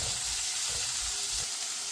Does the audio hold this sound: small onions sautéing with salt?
yes